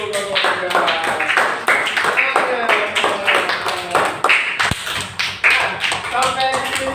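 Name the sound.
classroom applause for a group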